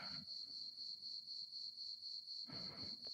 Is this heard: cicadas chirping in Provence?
yes